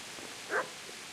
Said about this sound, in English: that sounds like a very angry dog